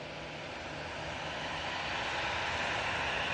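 Heavy airliner on final approach into Manchester Airport, a broad steady engine roar that builds slightly in loudness throughout, with no voices over it.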